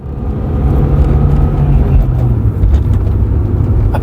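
A Toyota Altezza drives along with a steady, loud engine drone and road noise throughout, and no one speaks.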